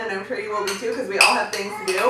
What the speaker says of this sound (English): I'm stirring in the mixture of scallions and shallots and mint